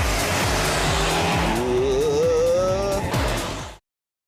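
A Saab car accelerates hard, its engine note rising steadily in pitch as revs climb through a gear, loud and close with tyre and road roar beneath, cutting off abruptly.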